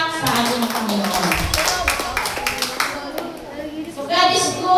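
Loud applause from a chapel congregation at a Marian seminar, dense scattered clapping running throughout with voices and crowd noise mixed in, swelling briefly near the end.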